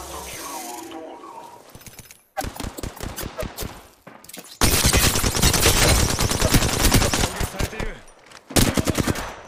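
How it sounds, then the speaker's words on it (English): Loud, rapid automatic gunfire from a gun in the Apex Legends video game, heard in a few short bursts and then one long sustained burst of dense rattling shots. "He's got the pew pew gun."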